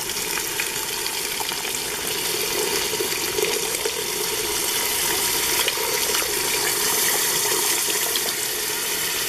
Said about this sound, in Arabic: صافي غادي نروي دابا بالماء، الماء يكون شويه دافي.